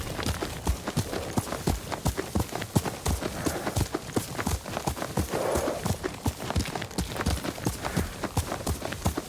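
Horse hooves in the video game Ghost of Tsushima, a brisk steady clip-clop of a trotting horse, close and crisp, with a faint snort or whinny partway through and no talking.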